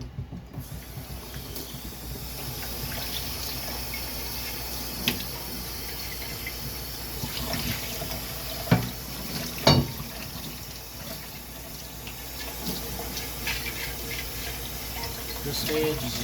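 Running tap water rinsing bleach out of a container, a steady close rush of water with clunks and rattles of handling, and a voice speaking intermittently over it.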